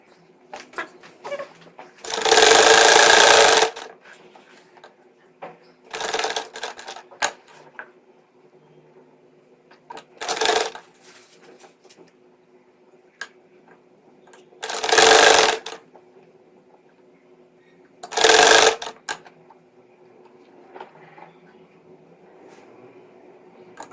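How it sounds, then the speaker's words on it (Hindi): A sewing machine stitches piping around a boat neckline in five short loud bursts separated by quiet pauses, alone and close by. "इतने ही फर्क से मैं सारे गले पर सिलाई लगाऊंगी और इसको तैयार करती जाऊंगी"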